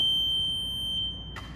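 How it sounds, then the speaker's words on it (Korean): An S12 indoor floor-cleaning machine backs up with its reverse alarm sounding a steady, piercing high beep over a low motor hum, then the tone cuts out and a brief clatter follows. "뒤쪽으로 내리면 후진 알람과 함께 후진이 됩니다"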